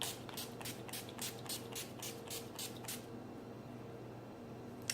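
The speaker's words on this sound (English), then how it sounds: "I'm going to be using the NYX First Brace Primer Spray again" Quick bursts of NYX primer spray misted onto a face, roughly nine short hissing pumps in a steady rhythm, close and fairly quiet, followed by a brief quiet stretch.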